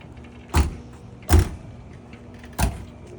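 Doors on a 2022 Fleetwood Discovery LXE 44B motorhome are shut three times in a row, each a short, close thump with quiet gaps between and no talking.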